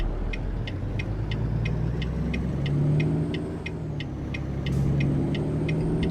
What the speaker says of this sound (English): You might have noticed today I'm driving a Volvo V&L.